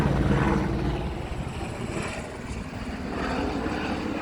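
A helicopter passes overhead near an airport, its broad engine and rotor rumble steady and fairly loud throughout, swelling slightly toward the start and end with no talking.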